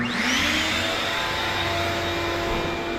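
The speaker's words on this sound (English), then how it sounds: "take the dinky little hose that comes with it, jam it in the exhaust, and buy yourself one or several very long vacuum hoses" A shop vacuum fitted with long hoses roars on and holds a loud, steady whine and rush of air for the whole stretch.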